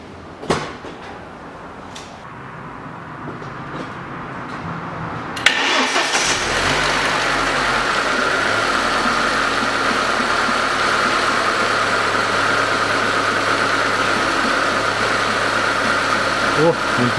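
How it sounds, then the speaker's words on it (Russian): A Chevrolet Niva 4x4 engine cranks and fires after a few quiet clicks, then settles into a steady, loud idle that continues unchanged, heard close from near the car. "Завожу двигатель, прогреваю и проверяю печку."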